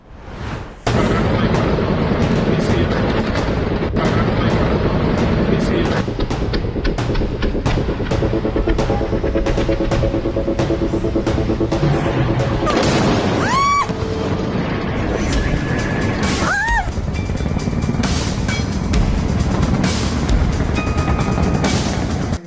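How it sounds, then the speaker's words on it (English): A noisy, dense stretch of dull booms and cracks from back-to-back night explosions in Caracas, Venezuela, follows in rapid succession, with sharp whistling tones rising near the middle and end. "back-to-back explosions tore through the dead of the night silence in Venezuela"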